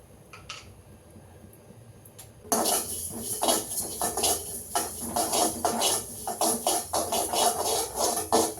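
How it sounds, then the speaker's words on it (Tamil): A small amount of sesame seeds roasting in a pan on the stove: a quiet stretch, then sudden loud metallic scraping and clattering with crackle as the seeds are stirred, repeating in uneven bursts. "இப்போ அடுப்பை பற்ற வச்சு எள்ளை வறுத்துக்கணும்."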